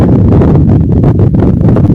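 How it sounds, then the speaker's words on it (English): Stormy gust of wind blowing through a window, a loud continuous roaring rush buffeting the microphone, with no voices. "I had a gust of wind coming through my window"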